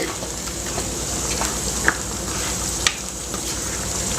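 Mutton pieces frying in masala in a pan hiss and sizzle steadily, with a couple of sharp spatula taps against the pan as the mixture is stirred, close and continuous.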